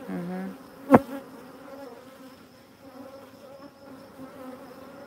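Honey bees hum steadily around open beehives, a close, continuous buzzing with a brief sharp knock near the start.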